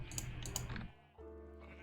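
Sheep in a pen in the Minecraft TekTopia game give a few short bleats, followed by a softer clicking, keyboard-like tapping; fairly faint overall.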